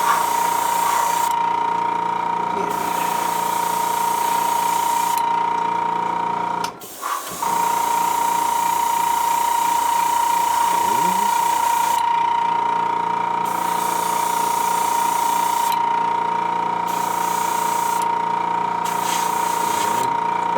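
Airbrush hissing steadily while spraying paint onto an AMT vinyl model kit of Kirk, Spock, Bones and Scotty, a continuous close air-spray sound with a brief break midway and no talking.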